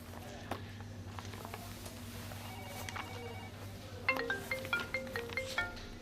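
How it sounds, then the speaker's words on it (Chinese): A telephone ringtone breaks in near the end of a business meeting over contract signing: a close, repeating melodic chime of short, evenly spaced tones after several seconds of low room hum. "接个电话。"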